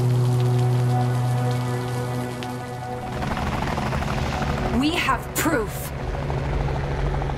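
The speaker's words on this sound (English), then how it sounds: "Military choppers!" Military helicopters in a video game drone under spoken dialogue, a steady low rotor throb with a rain-like wash building louder in the second half, with a brief sharper whine near the end.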